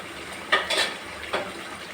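A spoon stirs pepper chicken semi masala gravy in a pan: a few short utensil scrapes and clinks, two close together and one later, heard clearly with no talk.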